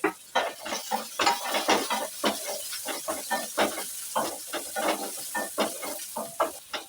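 Small-chopped tomato hisses and sizzles in a hot pan for a veg aloo masala grill sandwich filling, a close, steady crackling fry broken by repeated stirring scrapes, with no voices.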